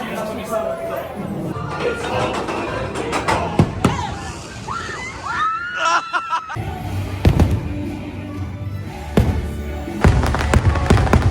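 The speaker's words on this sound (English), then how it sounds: "Fireworks are started." Fireworks bursting over the Magic Kingdom at Walt Disney World at night, a series of booms and crackling pops scattered through the clip under steady crowd chatter and nearby voices.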